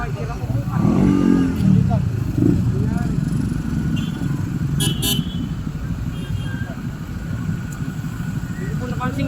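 Road traffic on the route from Manila to Cabanatuan rumbles steadily, with short car horn toots and passing engines, and someone talks over it.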